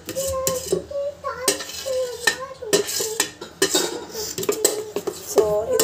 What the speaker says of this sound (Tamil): இது வந்து பாத்தீங்க நல்லா வந்து இப்படி பீட் பண்ணிக்கணும்